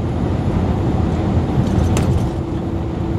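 Truck rolling downhill on a Virginia mountain road, a constant in-cab road rumble and engine drone with a faint jingling rattle midway, no talk.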